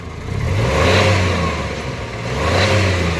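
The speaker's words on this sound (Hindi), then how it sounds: "अब देखो एक्सीलेटर देखो जरा से एक्सीलेटर में पकड़ रही है" Maruti Omni engine revving as the accelerator is pressed, a loud, close mid-pitched drone that swells, eases slightly, then rises again, with no talking.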